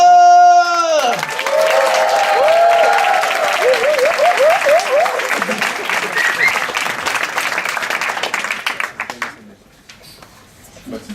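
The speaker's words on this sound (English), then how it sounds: "So give all of your warmth and your most supportive round of applause for Jesse!" Applause from an audience swells and carries on steadily, with an electronic musical sting at the start, then fades out near the end.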